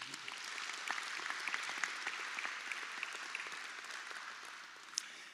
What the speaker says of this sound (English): If we could just give this company a round of applause.